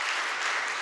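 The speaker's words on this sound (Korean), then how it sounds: "하나님께 한 번 더 박수로 영광 올려주시면 고맙겠습니다" A church congregation at an anniversary ordination service claps together, a brief, dense burst of steady applause filling the space.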